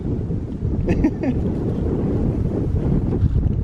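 Strong wind buffets the microphone in a steady, heavy low roar, with faint brief sounds passing over it.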